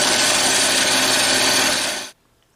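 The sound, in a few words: bandsaw cutting metal knife blanks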